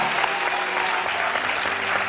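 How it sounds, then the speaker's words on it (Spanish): Energetic studio audience applause on a Spanish-language television set, continuous and even clapping throughout with no break. "este aplauso lleno de energía"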